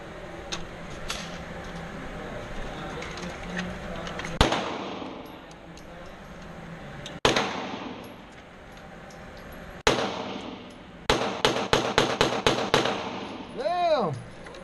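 At an indoor gun range, sharp gunshots ring out one by one with pauses between them, then a quick string of shots follows. People talk quietly in the background.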